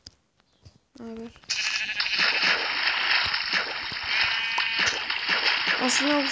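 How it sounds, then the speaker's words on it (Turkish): A sheep bleats close by, set against a loud rushing, splashing water noise that fills most of the clip, with a voice briefly audible. "Baktım koyunu burada."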